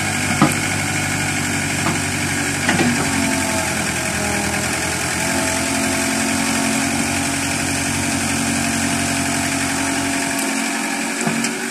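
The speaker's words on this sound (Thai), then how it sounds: "เสียงเครื่องมากลับมาเป็นปกติแล้วครับ" A Caterpillar CAT 307C excavator's diesel engine idles steadily at a normal pace after running under load, giving a continuous mechanical drone with light knocking and rattle. It holds level and close throughout, with no talk.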